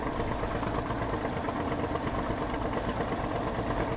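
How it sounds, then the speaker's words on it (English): A truck engine idles in the SnowRunner off-road driving game, a steady low rumble with slight vibration that holds at an even level, with no talking. "Let me turn off the engine here."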